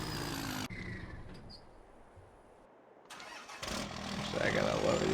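A Dodge truck engine rumbles close, cuts out so the air goes quiet, then noise picks back up, a short run of engine sound and shutdown with no talking over it.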